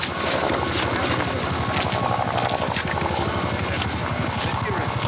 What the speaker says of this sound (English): You hear a helicopter off in the distance there.